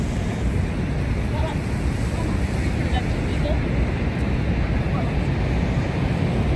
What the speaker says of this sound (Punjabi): ਦੇਖੋ ਪਾਣੀ ਡਿੱਗਦਾ ਦੇਖੋ ਜਿਹੜਾ